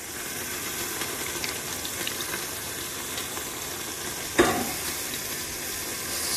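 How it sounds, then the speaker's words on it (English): Crushed tomatoes pour into a hot pan of butter, vodka and pancetta for a rigatoni vodka sauce, raising a steady close sizzle with a brief louder splash of liquid partway through; no talking. "butter, vodka, pancetta mixture. All right. I'm going to go in with my crushed tomatoes."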